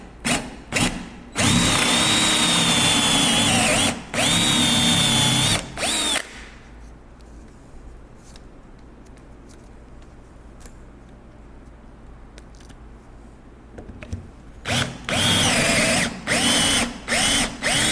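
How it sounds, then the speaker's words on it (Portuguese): Power drill boring through the outer part of an electrical connector, loud high-pitched whine in several bursts, then a long quieter stretch of low hum before more drilling bursts. "Vocês vão perceberem aqui na medida que eu estiver furando que ele vai estourar essa parte ali de fora."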